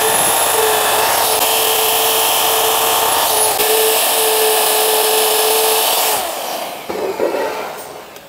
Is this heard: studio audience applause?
no